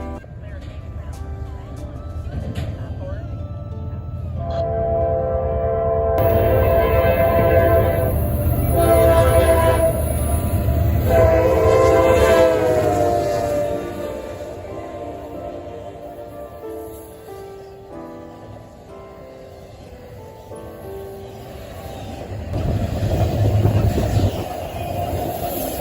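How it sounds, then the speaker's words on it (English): A train approaches and passes, its horn sounding in sustained multi-tone blasts, with rolling wheel rumble swelling and fading and some talk nearby. "This will be another extra train"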